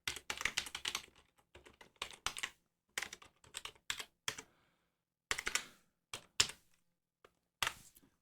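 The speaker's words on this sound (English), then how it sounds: "you just type in the address" Bursts of typing patter on a computer keyboard as an address is entered into a new Outlook contact, crisp clustered keystrokes separated by short pauses.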